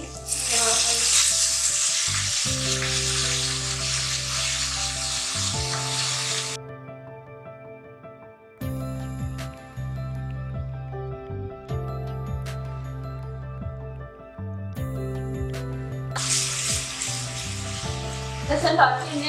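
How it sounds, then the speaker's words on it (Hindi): Garlic sizzling and frying in a pan for a mutton do pyaza, loud crackling bursts with pauses and clinks of a spoon as it is stirred, alongside a steady background hum. "लहसुन डाल के हमने अच्छी तरह इसको भूनना है"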